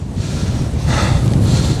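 Wind buffets a microphone on the Isle of Man coast at Groudle Glen, a loud, low, continuous rumble with gusty swells and no voices.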